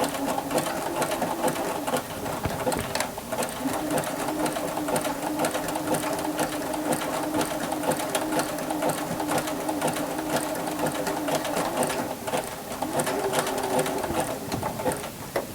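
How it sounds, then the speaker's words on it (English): Close up, a sewing machine runs a zigzag bar tack stitch at the end of a seam on a duffle bag, humming steadily and rapidly at an even pace throughout with no talking. "I'm going to go ahead and do my zigzag stitch, bar tacking stitch to the end."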